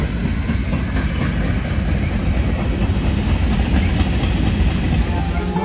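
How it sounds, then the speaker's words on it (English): A train rolls past at very close range, a loud, steady rumble with rhythmic clickety-clack of railcar wheels filling the whole stretch, with no voices. "That's how close the train is right there."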